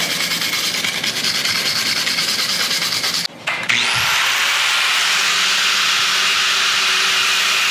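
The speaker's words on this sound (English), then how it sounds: "we'll grind it smooth from the inside and the outside" Grinder smoothing metal inside and out before welding, run on a 35-year-old Ranger; a loud, continuous grinding roar, a brief stop, then the tool spins back up to a steady high whine, no talking.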